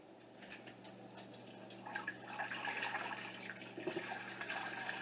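Hot water pours into a home canner, a steady filling rush with splashing that swells slightly louder partway through, close by and with no one speaking.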